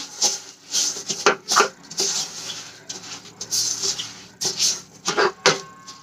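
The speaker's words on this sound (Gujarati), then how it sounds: "તલ એડ કરીને આપણે સરસ રીતે મિક્સ કરી લેવાના છે" Sesame seeds being stirred into hot jaggery for chikki, close rhythmic scraping and rubbing strokes in quick irregular bursts with short pauses between, no speech.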